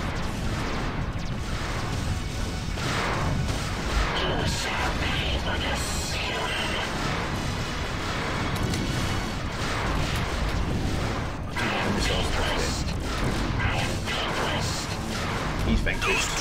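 Turrets fire relentlessly at the player's ship in the space combat game Wing Commander Prophecy, a dense, continuous barrage of blasts and booming impacts that stays loud for the whole stretch.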